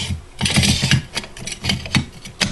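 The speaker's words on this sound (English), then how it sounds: "Alrighty, now for this Troy rail. Slide her on." A Troy rail slides onto an AR-15 A2 upper receiver with scraping, rubbing metal-on-metal clicks and knocks in a quick, uneven series, close up and clear with no voices.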